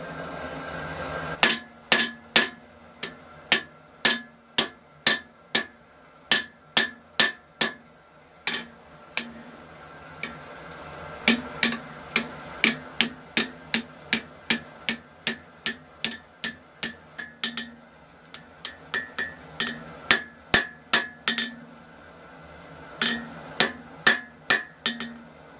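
Hammer blows bend a metal piece over for a forge weld on an axe bit, dozens of sharp ringing metallic strikes in uneven runs, some close together and some spaced apart, loud and near with no talk.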